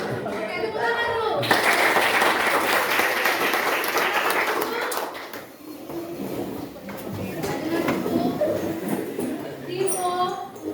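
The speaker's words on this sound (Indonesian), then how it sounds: "tepuk tangan dulu." Classroom applause from students during a school lesson activity, a dense burst of clapping starting about a second in and fading by midway, followed by lighter scattered noise with voices talking over it.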